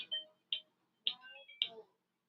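A phone rings with a ringtone in four short, bright tonal bursts about half a second apart, fairly quiet and alone.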